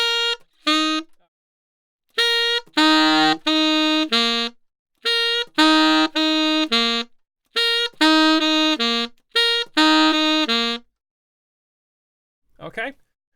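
Saxophone plays a slow slurred phrase of G, an alternate-fingered C, a regular C and a G, repeated several times with short pauses between groups; clear, close and solo, with a faint click near the end.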